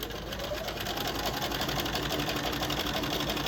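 A sewing machine stitches quilt blocks with a steady, fast mechanical whir and a constant even buzz of needle strokes. It sits close and runs unbroken for several seconds.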